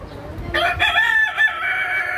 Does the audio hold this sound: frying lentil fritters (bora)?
no